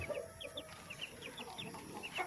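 Month-old turkey chicks on a poultry farm give repeated short, high chirps and peeps scattered through the clip, moderately close, over a low background murmur, with no talk.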